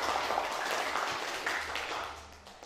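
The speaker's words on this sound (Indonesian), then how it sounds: "Tepuk tangan buat kelompok perikanan." A classroom of students applauds a fisheries presentation group, a brief burst of many hands clapping together, fairly steady and tapering off slightly.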